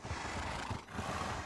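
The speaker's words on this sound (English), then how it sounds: "These are obviously adult female horses." Horses neigh in the blocky survival game TerraFirmaCraft, from a herd of adult mares. A couple of loud, close whinnies rise over a soft game ambience, with a brief dip in the middle and no talking.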